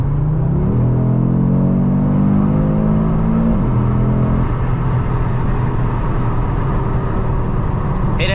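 A 2022 Audi RS3 sedan's 400 hp five-cylinder engine pulls hard in RS Performance mode, a loud droning rumble climbing in pitch, shifting near four seconds, then settling into a steady roar.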